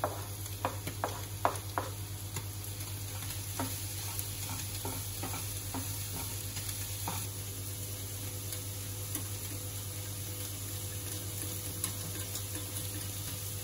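Onions, bacon and portobello mushrooms frying in a pan, a steady soft sizzle with scattered pops and stirring ticks, heard alone.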